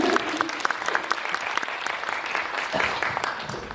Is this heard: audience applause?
yes